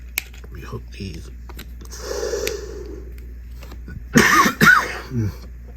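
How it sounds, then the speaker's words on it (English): A quiet room with soft rustling, then two sharp coughs close by near the end. "Excuse me for the cough."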